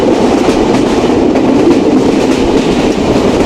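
Madhumati Express passenger train speeding on rails between Rajshahi and Dhaka, heard from inside a carriage as a loud, steady rumble with clickety-clack of the wheels throughout and no talking.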